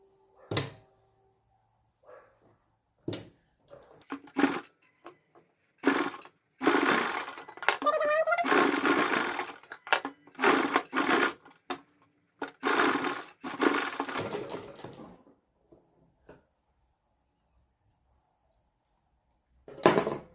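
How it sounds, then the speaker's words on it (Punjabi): A sewing machine stitches the side seam of an elastic head patka, running in short bursts and one longer steady run separated by pauses, loud and close with no talking. "ਇਸ ਤੋਂ ਬਾਅਦ ਆਪਾਂ ਦੂਜੀ ਸਾਈਡ ਸਲਾਈ ਲਾਵਾਂਗੇ ਇਸ ਤਰੀਕੇ ਨਾਲ"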